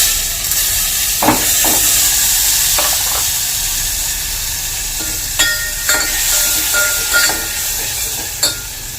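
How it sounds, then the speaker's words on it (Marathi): Tomatoes frying in hot oil with browned garlic, a continuous close sizzle and hiss broken by several quick scraping stirs. "आता आपण हे टमॅटो टाकून घेऊ आतमध्ये"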